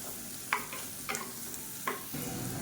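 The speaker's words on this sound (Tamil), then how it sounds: "இந்த எண்ணெயிலே நல்லா கிறிஸ்பியாக வர அளவுக்கு இந்த வாழைக்காயை வந்து வறுத்து விட்டுக்கலாம்" Raw plantain frying in oil until crisp, giving a soft low sizzle broken by a few sharp scraping stirs near the start and middle, with the frying swelling louder toward the end.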